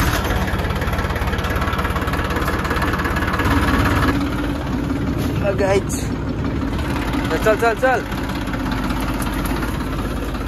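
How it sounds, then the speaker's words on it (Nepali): A tractor loaded with fertilizer idles and runs nearby, giving a loud, steady, low engine drone throughout while a voice briefly calls out over it. "मल हालेको ट्र्याक्टर"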